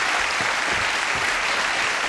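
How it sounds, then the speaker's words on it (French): Studio audience on a French TV show applauding, dense continuous clapping held steady and loud throughout, with no voices over it. "Allons-y, mesdames, messieurs, sous vos va, applaudissements, la confrérie des gâteaux mous."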